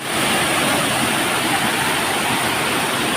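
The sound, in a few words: roaring rushing water near a cave hole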